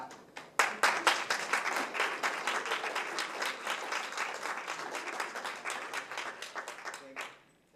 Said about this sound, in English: Thank you, Jack, for clapping.